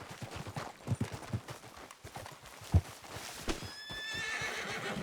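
A horse in the Red Dead Redemption 2 video game whinnies while its hooves clip-clop at a walking pace, close and moderately loud, with no talking.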